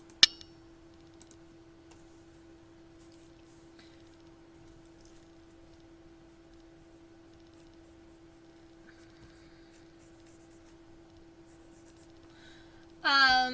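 Pencil sketching a Japanese beetle illustration on paper: faint, sparse scratches and light taps over a steady low hum, quiet and close, ending in a brief louder noise.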